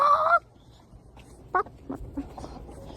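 Farm fowl, named as chickens, give a sharp loud honking squawk at the start, then a few fainter short clucks and calls follow over quiet background rustle.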